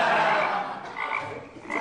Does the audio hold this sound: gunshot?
no